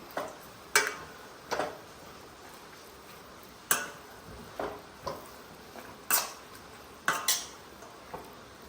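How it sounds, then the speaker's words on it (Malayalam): A spoon scrapes and knocks against a pan while mushrooms are stirred for a chicken dish, a string of sharp metallic clinks at irregular intervals over quiet background. "ഇനി നമ്മൾ മഷ്റൂം ഇട്ട് കൊടുക്കുകയാണ് കേട്ടോ നല്ലൊന്ന് ഇളക്കി കൊടുക്കാം"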